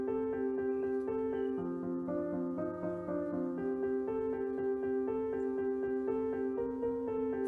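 A jazz chord progression played as a contrafact example moves through a series of sustained, mellow, keyboard-like chords at a moderate, even pace, clear and fairly soft with no voices.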